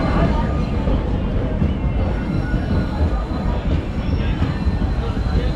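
Passenger express train running along the tracks, a steady loud rumble of wheels and carriage noise filling the whole stretch without pause, with faint voices now and then underneath.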